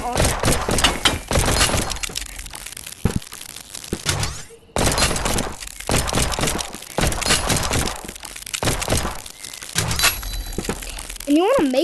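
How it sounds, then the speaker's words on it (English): Gunfire aimed at a crystal in the VR game Animal Company, heard as a loud run of sharp cracks and shattering, breaking impacts in bursts with brief pauses, close and dominant. "You want to just like practice shooting on that crystal."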